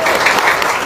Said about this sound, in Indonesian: Tepuk tangan yang kenceng